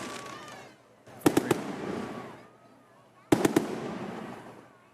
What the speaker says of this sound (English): Ladies and gentlemen, the fireworks are brought to you by the Chandler Chamber of Commerce.